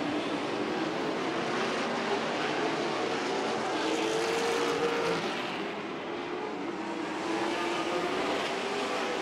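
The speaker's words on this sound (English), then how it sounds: "A lap around Wakeman into turn 1." Late model race cars roar around the oval at Rockford Speedway, a dense, sustained engine drone from a pack at middle distance, swelling and easing slightly as they pass through the turns.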